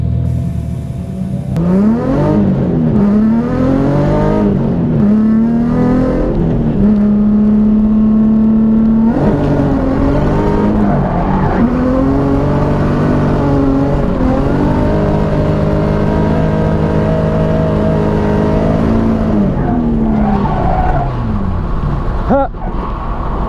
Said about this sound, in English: Sorry, long handbrake slide, almost.